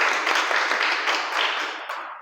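Dense, steady applause from a classroom of students cheering a second-place test rank in a maths class, many hands clapping together close by for a couple of seconds.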